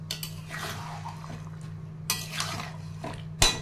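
Water swished and stirred around a bowl to rinse out leftover yogurt, with soft sloshing, scraping clinks of a utensil against the bowl and a sharp knock near the end, all close up.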